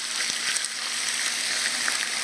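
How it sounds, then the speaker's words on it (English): Steady, loud sizzling of chicken frying in a hot pan, a continuous crackling hiss with small pops throughout. "hear that sizzle, that's what you want to hear"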